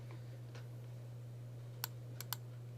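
A few quick, light clicks of a computer keyboard while typing C++ code, sparse taps near the end over a constant low electrical hum.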